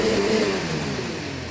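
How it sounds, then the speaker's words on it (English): A Formula 1 car engine in the F1 2019 racing game revs loudly and steadily at a high, sustained pitch for a moment, with no other sound. "Engine fired, we're set."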